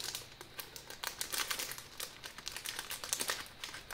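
Paper wrapping crinkles and rustles continuously as a handmade Christmas decoration is pulled out of it, close up and fairly soft, with no talking.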